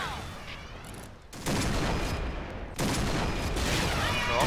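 Barret sniper rifle fire in the shooter game Point Blank: two loud, abrupt gunfire bursts that cut in over a softer background of battle noise, each sustained and crackling, with a faint voice underneath.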